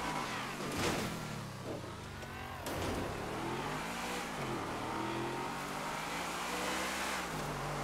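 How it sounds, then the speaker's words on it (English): A Rapid GT sports car engine in GTA Online revs with rising and falling pitch sweeps, running steadily and fairly loud throughout with another engine mixed in, and no voices. "Is that a Rapid GT that I can hear?"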